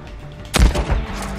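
A rifle shot rings out in the video game Days Gone, a single loud, close blast followed by a rumbling echo that trails off, with no talk over it.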